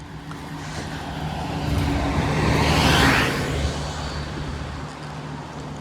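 A Toronto city bus on route 83 swells in from a steady background of roadway traffic and passes close by on a residential street, peaking at mid-clip before fading again.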